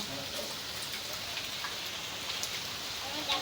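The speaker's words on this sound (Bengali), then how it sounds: "তারপরে স্বস্তির বৃষ্টি পনেরো দিন পরে" Steady rain pours down after a spell of hot weather, a dense continuous hiss of drops on surfaces, fairly close and without talk.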